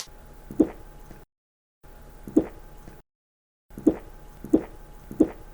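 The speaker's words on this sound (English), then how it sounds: "I was swallowing a sip of carbonated water." A person swallowing a sip of carbonated water, five soft wet gulping clicks spaced irregularly across the span, close and quiet, separated by brief gaps of silence.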